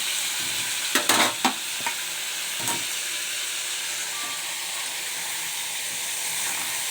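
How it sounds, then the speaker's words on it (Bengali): Pointed gourd frying in a pan, a steady low sizzle with a few sharp stirring scrapes and clinks early on, close but fairly quiet, no talk. "একটু ভাজা হয়ে যাবে লাল লাল করে"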